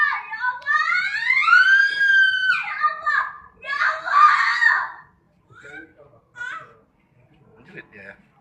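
A person lets out a loud, long, wavering scream that rises and falls in pitch, followed by shorter cries and quieter vocal sounds trailing off.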